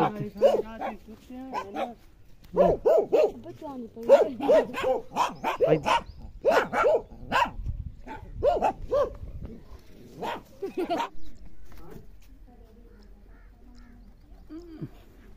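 A dog barks in quick, sharp bursts mixed with people talking nearby, then the sound trails off into quieter background.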